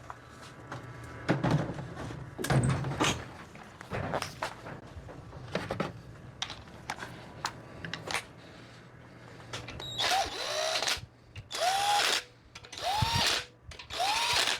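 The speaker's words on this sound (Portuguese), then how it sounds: "pegar a parafusadeira aqui para dar encostada" A low-torque cordless screwdriver snugs bolts during assembly of a Volkswagen Parati 2.0 AP engine: several short whirring bursts near the end, after scattered metallic clanks and tool handling close by.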